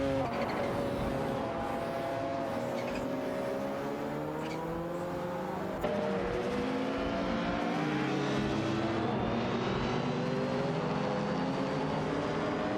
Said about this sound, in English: The cars are zooming around the track